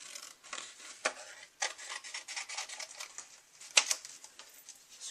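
Quiet scraping and rubbing of a blade or scissors cutting a piece of paper or card in a craft project, a soft, uneven rasp with a few sharper snips, close and alone without talk.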